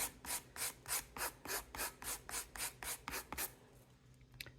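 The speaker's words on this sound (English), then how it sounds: "Just that little bit of sanding gives it kind of more of a finished look." Quick, rhythmic back-and-forth rasping of an emery board filing a surface, about a dozen even strokes close up, then slowing and stopping.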